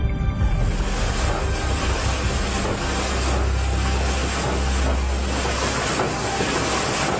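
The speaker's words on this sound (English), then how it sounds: "On board U-864, the noise of the engines would be terrifying for the crew." A WW2 submarine, U-864, with engines running, given as a continuous low, rumbling drone. Heavy broadband noise like rushing water or wind lies over it at a steady, moderately loud level.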